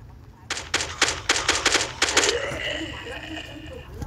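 Gunfire in the Crafting and Building video game, a quick series of about eight sharp, evenly spaced shots at moderate loudness, followed by a lingering ringing tail and faint background chatter.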